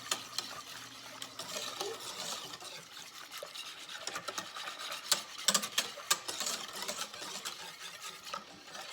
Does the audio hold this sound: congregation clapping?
no